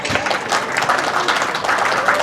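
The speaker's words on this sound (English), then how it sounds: "Let's give a collective round of applause for our beloved Monos" An audience applauds the Monos at a Philippine Weekend gathering, dense sustained clapping from a crowd, even and continuous from start to finish.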